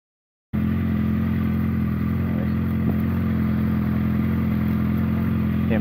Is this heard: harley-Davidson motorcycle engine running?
yes